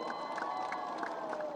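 A crowd at a rally applauds and cheers in a dense, steady wash of clapping and voices that stays level throughout.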